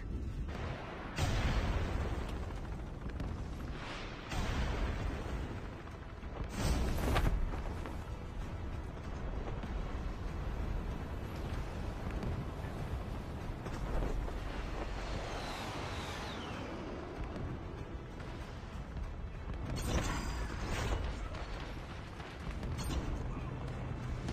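Missile launches and explosions in the video game Call of Duty Mobile: a continuous loud barrage of booming blasts and rumbling impacts, with heavier bursts near the start and again later on, dense and sustained.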